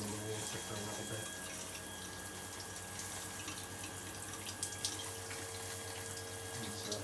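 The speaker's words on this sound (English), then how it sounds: "We'll just run the water for a little bit." Water gushes steadily from a newly fitted thermostatic shower mixer bar, a constant even hiss held at close range throughout with no talk.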